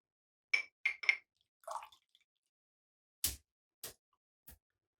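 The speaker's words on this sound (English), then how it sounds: "I'm going to take my synthetic brush. I'm going to go ahead and dip it in." A synthetic shaving brush is dipped into water: three quick, close wet squishes, a softer slosh, then a few isolated drips in otherwise quiet surroundings.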